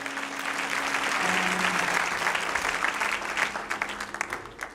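A church congregation applauding at a French-language sermon, steady sustained clapping from many hands that begins to thin toward the end, with a faint voice underneath.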